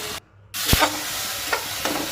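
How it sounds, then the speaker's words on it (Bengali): Stirring and sizzling of fish egg curry sautéing in spices in a hot pan, with a sharp scrape of a spoon followed by a few softer stirring strokes over steady frying crackle. "সব মশলার মধ্যে দিয়ে ভালোভাবে এটাকে কষিয়ে নিচ্ছি"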